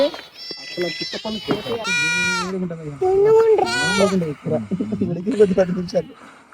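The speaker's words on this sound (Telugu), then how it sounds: "సో గైస్ చూడరు ఎన్ని మేకలు ఉన్నాయి." Goats bleat loudly and repeatedly close by, wavering high cries overlapping one another with short pauses between calls.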